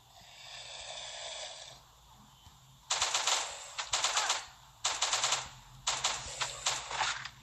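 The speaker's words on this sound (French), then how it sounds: "À quoi ça ressemble le mini Uzi? On va faire un petit test sur un zombie." A mini Uzi fires at a zombie in the video game Last Day on Earth, with several short bursts of rapid gunfire after a quieter lead-in.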